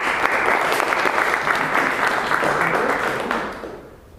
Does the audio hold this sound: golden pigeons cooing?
no